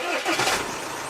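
An Audi Q5 engine cranks and catches in a short, loud burst, then settles into a steady running hum, close by with no talking.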